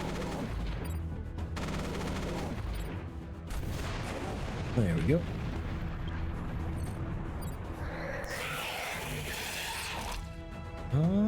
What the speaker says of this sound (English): Alright, all cannons away.